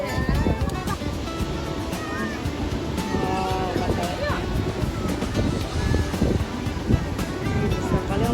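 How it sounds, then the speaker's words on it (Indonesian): Big ocean waves rolling in at Kukup beach, a continuous rushing surf with wind noise, heard beneath people talking and scattered clicks close to the microphone. "Besar kali ombaknya."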